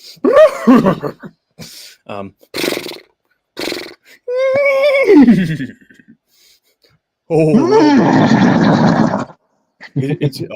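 A woman imitates a horse, with a drawn-out whinny, a few sputtering snorts, and a final breathy neigh. Voices and laughter break in between the attempts.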